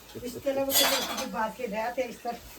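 Metal cooking pot on a wood-fired clay stove clanks and scrapes as it is handled nearby, with a sharp clatter early on, while someone talks over it.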